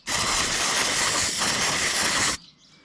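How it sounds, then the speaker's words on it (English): Brake cleaner sprays onto the carburetor of a Briggs & Stratton Quattro lawnmower engine in one loud, continuous close hiss lasting a little over two seconds, then cuts off abruptly into near quiet. "I've just got some brake cleaner here. Just give it a quick blast just to"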